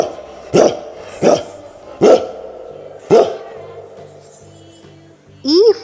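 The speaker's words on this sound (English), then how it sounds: "D for dog." A dog barks four times in a slow, uneven series of loud, close single barks, each standing alone with short gaps between them.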